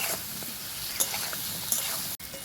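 Cut cauliflower and potato pieces frying in a pan, a soft continuous sizzle with a couple of light utensil taps and a brief dropout near the end.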